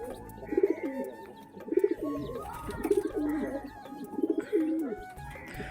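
Pigeons coo close by while a hen gathers nesting sticks. Low, throaty coo phrases repeat roughly every second in a steady rhythm.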